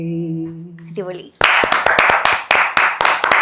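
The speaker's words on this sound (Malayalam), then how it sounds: "ഞാൻ തന്നെ എന്നെ കൈയടിക്കുന്നു" A man claps his own hands: after a brief stretch of sung or spoken voice, about nine or ten sharp, loud, close claps follow in an uneven rhythm.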